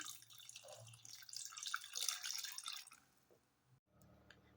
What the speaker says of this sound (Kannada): ಇವಾಗ ನಾನು ಬೀನ್ಸ್ ಮತ್ತು ಕಾಳು ಬೇಯಿಸಿದ ನೀರನ್ನ ಹಾಕೋತಾ ಇದ್ದೀನಿ